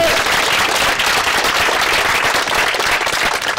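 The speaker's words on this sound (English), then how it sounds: "Please give him another round of applause." An audience at a press conference about a county oil and gas ordinance claps for a town representative, giving a loud, dense, sustained round of applause throughout.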